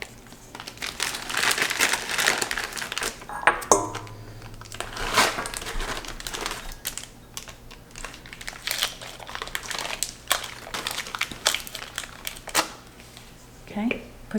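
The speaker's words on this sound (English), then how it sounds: "I need you to take the wrappers off of those." Paper wrappers crinkle and crumple as they are peeled off while making banana bread at home, with repeated bursts of rustling and a few sharper crackles, close up over about fourteen seconds.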